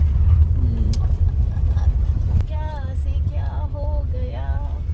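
A family car drives on after a U-turn on a road trip to Nagpur, its low engine and road rumble droning steadily beneath voices that talk and sing inside the cabin.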